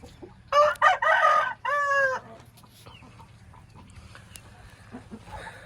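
An Aseel rooster crows loudly and close by with a long harmonic call in two bursts, followed by quieter farmyard background with hens nearby.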